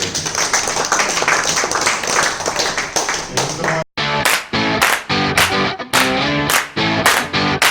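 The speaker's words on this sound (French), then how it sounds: "applaudissons encore" An audience in a roleplay class applauds loudly for a few seconds, then the dense clapping breaks up into separate claps and short bursts mixed with talking.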